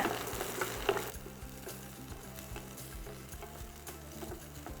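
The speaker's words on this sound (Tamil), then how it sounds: "சேர்த்துட்டு ஒரு ரெண்டு நிமிஷம் வெங்காயத்தை வதக்கிக்கோங்க" Small onions sautéing in oil in a pan, a soft low sizzle with faint stirring scrapes and light ticks, a brief louder burst near the start, then quieter frying alone.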